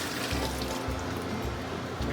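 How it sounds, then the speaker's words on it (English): Boiled potatoes are drained of their cooking water in a kitchen, a loud, continuous rushing pour with a gurgling low splash throughout, close by and with no talk. "I'm just going to drain them real quick here."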